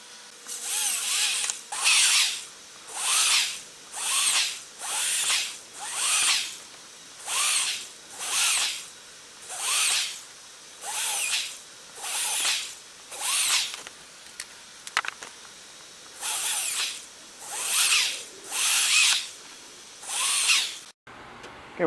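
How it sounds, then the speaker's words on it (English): Power drill boring a series of 5/32-inch holes in metal during an RV bunk modification, roughly fifteen distinct loud whirring bursts in a steady rhythm, close by, with no talking. "The drill I'll be using is 5/32."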